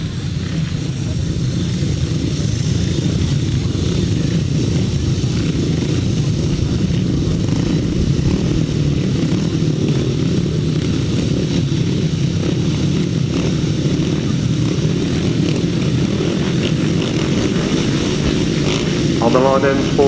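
Grasstrack racing motorcycles roar off the start line at a 2007 Ledbury meeting, a loud sustained broadband engine din throughout with a crowd and announcer's voice blended underneath.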